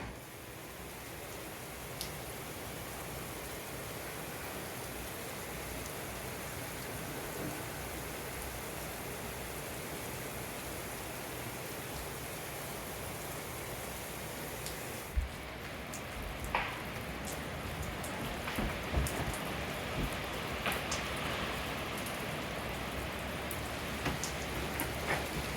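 Rain falls steadily on an icy Oregon farm, a dense continuous hiss of drops with scattered sharper taps and drips growing slightly busier toward the end, no voices.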